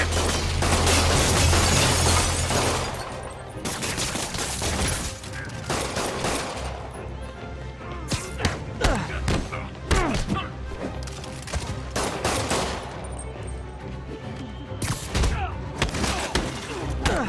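Henchmen firing guns at Spider-Man in Marvel's Spider-Man on PS4, a dense barrage of rapid gunshots and thuds with shattering impacts, loud and sustained, with shouted voices mixed in.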